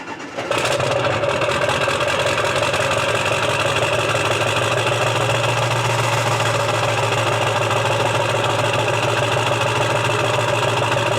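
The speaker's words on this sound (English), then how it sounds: "see how it's like chugging along? When it's cold, it only runs on like 6 or 7 cylinders" A high-mileage car engine idles cold and runs on only six or seven cylinders, giving a steady, uneven chugging that carries on without a break at moderate distance after a short start at the beginning.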